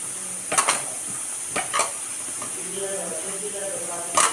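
Meal maker soy chunks are tossed and mixed with gram flour and cornflour for Meal Maker 65. A few sharp clinks and scrapes sit over a steady background hiss.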